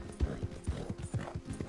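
Horse hooves clopping in a video game, a steady rhythmic beat of close, moderately loud hoofbeats with no voice over them.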